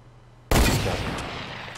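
A single sharp gunshot from a weapon in the battle royale video game Fortnite bursts in suddenly after a quiet moment, then rings out with a sustained noisy decay.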